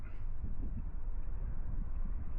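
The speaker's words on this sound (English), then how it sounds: "The wind's picking up." Steady wind blowing across the microphone on an Alaskan beach at sunset, a continuous low rumbling roar that fills the whole stretch without letup and without any voices.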